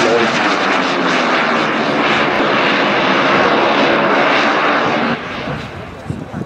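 A model jet engine on an RC Eurofighter roars loudly and steadily with afterburner, then the roar abruptly drops to a lower, quieter whine near the end as the afterburner switches off.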